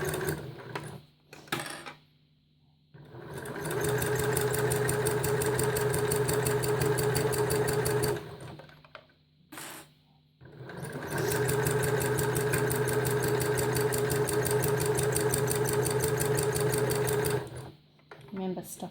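Domestic sewing machine stitching a cloth menstrual pad with an exposed core, running in two long steady bursts separated by brief pauses, a close, even whirring hum.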